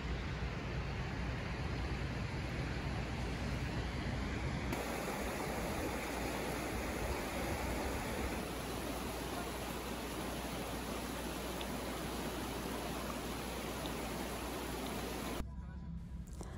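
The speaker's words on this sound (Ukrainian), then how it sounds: "люди можуть сидіти, насолоджуватися шумом води та гарною місцевістю горною" Steady broadband rush of a mountain river flowing near a gazebo rest area in the Carpathian highlands of Zakarpattia near Synevyr, a constant close roar of water with no voices.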